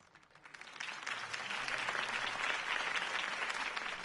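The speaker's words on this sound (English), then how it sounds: "could have heard that applause" Crowd applause in a Batman Telltale video game swells up and holds steady, a sustained wash of clapping from a large group, moderately distant.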